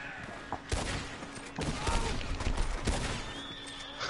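Gunfire in a video game, a dense burst of overlapping shots with a few sharper cracks standing out, loud and close, over a continuous noisy game background.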